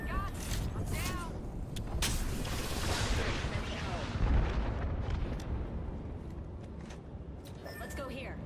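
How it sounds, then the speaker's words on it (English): Video game battle with gunfire and explosions: dense rumbling blasts and sharp shots, low to moderate level and fairly continuous, with a voice talking over it. "Enemy over there. Being shot at."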